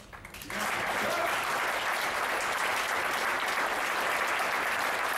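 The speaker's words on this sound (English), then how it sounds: "please offer a preemptive round of applause for whoever" A seated audience breaks into a steady, dense round of applause that swells in quickly and holds at an even level, full and continuous without any talking.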